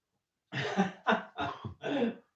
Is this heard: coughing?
yes